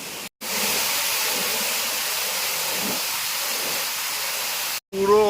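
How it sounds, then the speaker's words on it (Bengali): Heavy water pouring down a hidden forest waterfall in Keonjhar, a loud, steady broadband roar filling the whole stretch, broken by two brief dropouts. "মারাত্মকভাবে ফলসের জল পড়ছে"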